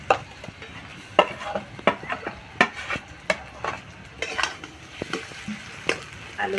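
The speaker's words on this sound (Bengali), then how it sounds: "আলুগুলো একটু ভাজা ভাজা করে নেব।" Potatoes frying in a pan and being stirred with a utensil, cooked outdoors over a wind-blown flame for an egg-and-potato chop. The sizzle runs steadily underneath while sharp, irregular scraping and clinking strokes come close and clear, with no talk.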